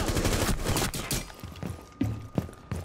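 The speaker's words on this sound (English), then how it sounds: "I'm going to have to use my pistol for a bit." Pistol gunfire in the Rainbow Six Siege video game: a dense, rapid burst of shots at first, then three sharp single reports spaced apart, loud and close.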